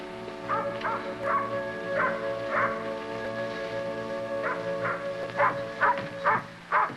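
A dog barks and yips repeatedly indoors, with whimpering whines in between, in an old television drama scene; the bursts come in an uneven series, moderately loud, with a faint steady background hum.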